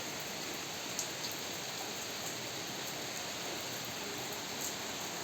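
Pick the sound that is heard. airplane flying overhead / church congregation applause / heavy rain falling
heavy rain falling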